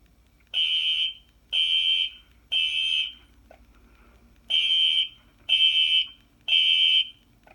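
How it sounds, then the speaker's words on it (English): Fire alarm horns blare in a repeating temporal pattern, three bursts, a pause, then three more, loud and close, each burst accompanied by faint strobe clicks that hint at drifting sync. "every time a strobe flashes is when the horn goes on the device"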